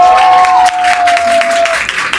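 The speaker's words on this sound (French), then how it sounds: "Applaudissez s'il vous plaît pour Ariana." An audience claps for Ariana, a busy patter of hands that continues throughout under a sustained tone and some background voices.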